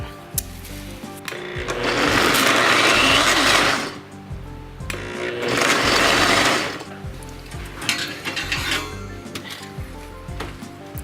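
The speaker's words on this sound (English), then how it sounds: "So that is all blended up, and now I'm just going to add my parsley in and pulse it a little bit" A kitchen blender pulses parsley in two loud bursts of about two seconds each, with a brief quiet gap and lighter handling noises between and after.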